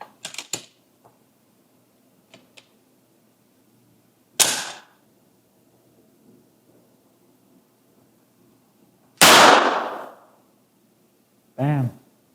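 A Walther PDP pistol goes off during a drop test, giving a sharp, loud crack with a short tail. Smaller knocks and clatters come before it, and another brief loud burst follows.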